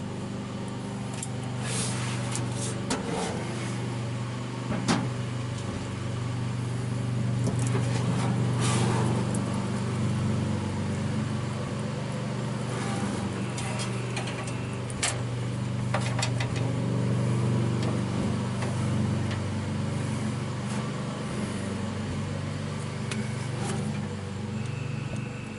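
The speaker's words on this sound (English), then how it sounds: "that means we're pumping out of the tank now" Electric fuel pump drawing fuel out of the tank of a 1963 Ford Falcon or 1955 Chevy truck through an inline filter, a steady low motor hum and drone held throughout at moderate level with small clanks over it.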